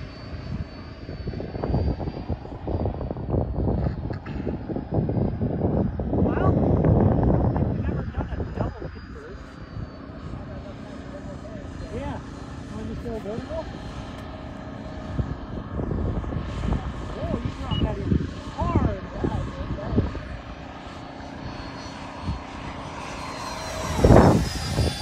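Freewing F-22 90mm EDF RC jets fly in formation with a whooshing, rising and fading ducted-fan roar that swells as they pass near and thins as they move off. People talk throughout.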